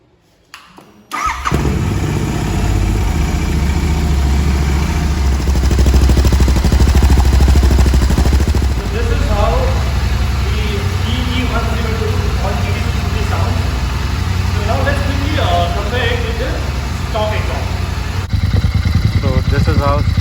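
Royal Enfield Continental GT650 motorcycle with an AEW TE 102 exhaust, cranked and fired up after a brief quiet start, then idling with a steady, throbbing, close beat while a person talks over it.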